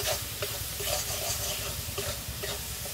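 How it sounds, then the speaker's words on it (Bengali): Sauce and Maggi masala are stirred in a frying pan, close up, with a continuous sizzle and a rhythmic scrape of the spatula roughly every half second, and no voice. "1 প্যাকেট ম্যাগি মশলা নিয়েছি, এটা দিয়ে দেবো। ভালো করে মিশিয়ে নেব।"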